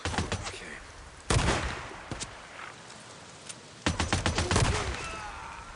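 Bursts of loud automatic gunfire in the Days Gone game, two rapid volleys separated by a quieter pause with a few isolated shots, close and sharp with ammo being sprayed.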